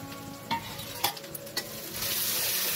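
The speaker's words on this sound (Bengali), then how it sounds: "এবার এখানে দিয়ে দিলাম আদা রসুন পেস্টটা" Two medium onions fry with ginger garlic paste in a pan and are stirred, giving a steady sizzle with a few spoon scrapes. The hiss swells louder toward the end.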